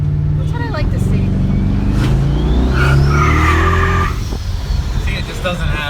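Twin-turbo 5.3 Chevrolet Canyon truck spinning its tires in second gear under full throttle; a loud, close engine roar climbs and holds with a rising squealing whine, then eases off.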